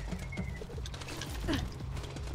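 Birds in the video game Borderlands 2 coo like pigeons or doves, a few soft calls over steady low game ambience.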